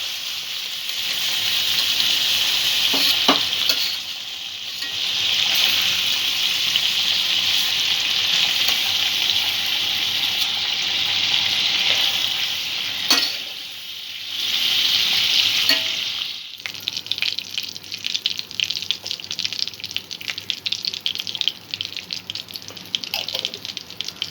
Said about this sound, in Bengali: চিংড়িটা মিনিটখানেক ভেজে নিয়েছি, চিংড়িটা এবার আমি তুলে নেব।